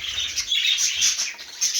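Budgerigars chirp and twitter continuously in a rapid, high-pitched chatter, close and fairly loud with no talking.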